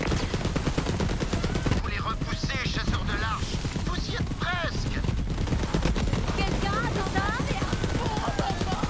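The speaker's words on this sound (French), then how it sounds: "Fusil à pompe, Jacobs." Jacobs shotgun from the Borderlands 3 video game firing repeatedly in heavy, booming blasts, loud and dense across the whole stretch, with game effects and faint voice-like chirps layered in between.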